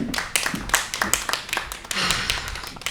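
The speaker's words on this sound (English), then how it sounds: "Give yourselves a round of applause, guys." A small studio audience on a dating game show gives itself a round of applause, with loose, uneven claps and taps that come close and sparse before thickening briefly into fuller clapping.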